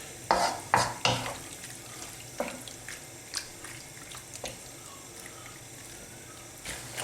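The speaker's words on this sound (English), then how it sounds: "I'm just going to cook that cream through there." A spoon scrapes and stirs through chicken and chorizo pasta in a bubbling cream sauce in a pan, with a few sharp strokes at first and then lighter, sparser stirring and soft simmering, close, with no voice.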